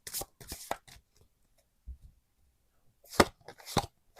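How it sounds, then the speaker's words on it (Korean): Tarot cards being shuffled and drawn, a quick run of crisp papery riffles at the start, a soft tap in the middle, then two more sharp card slaps, close and quiet with no talk. "제가 세븐컵이 조금 다르게 보여서 보조 카드 한 장 뽑아 볼게요"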